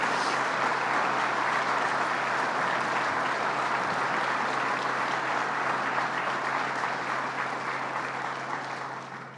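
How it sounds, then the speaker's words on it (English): An audience at a government jobs announcement claps in sustained, even applause that holds steady for several seconds before tapering off at the end. "Let's give them a round of applause."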